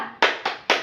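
Group hand clapping in a rhythmic routine at a community family meeting, with three sharp, loud, evenly spaced claps from many people together and near silence between them.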